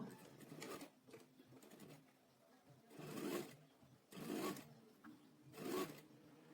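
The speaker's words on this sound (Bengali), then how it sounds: "সেলাই দিয়ে নেব।" A sewing machine stitches a shirt in four short whirring bursts separated by brief pauses, close and fairly quiet.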